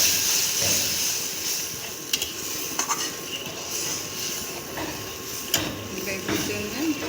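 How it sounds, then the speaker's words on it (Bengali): Saved chhana whey is poured into a hot pan of frying capsicum and tomato, producing a steady broad hiss of sizzling steam with a few small clinks, close by, while a voice talks faintly. "এবার আমি এই ছানার জলটা রেখেছি সেইটাই দিয়ে দেবো।"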